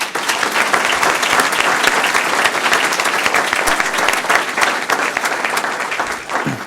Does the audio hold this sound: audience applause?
yes